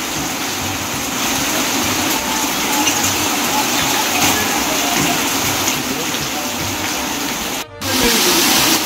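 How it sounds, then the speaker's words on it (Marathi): Heavy monsoon rain in Konkan pours down in a dense, continuous roar, loud and close, with a brief dropout near the end before it resumes. "जोरदार आहे मित्रांनो पाऊस"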